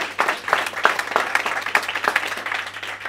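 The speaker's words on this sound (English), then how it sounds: "So round of applause to everybody online and here in the event." Applause from a live audience at a company event launching an academy, with steady hand clapping of moderate density and a few claps standing out, heard fairly close and on its own.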